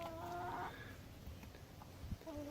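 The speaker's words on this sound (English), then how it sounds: "He's my barred rock rooster." A barred rock rooster and hens cluck softly in a backyard flock. The calls are short and scattered, faint under steady outdoor background noise.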